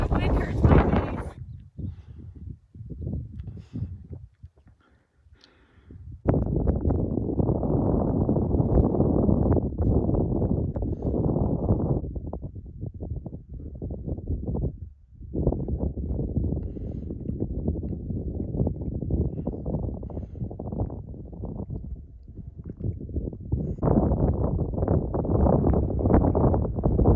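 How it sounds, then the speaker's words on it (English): Wind blows hard across the microphone on a wet, cold stretch of the Colorado Trail, a loud continuous rumble that starts after a few seconds of quieter gusts and talk and persists to the end. "The wind hurts my face."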